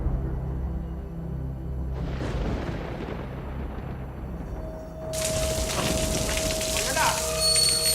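Steady rain falling on a day that follows excessively steamy weather, a dense hiss that thickens and brightens partway through into a heavy, close downpour, with a low rumble underneath.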